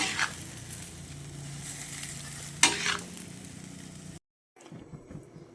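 Beef pinapaitan is stirred in a hot pan, a loud close sizzle with scraping stirs and one sharp clank, then a brief break in sound before the quieter sizzling resumes.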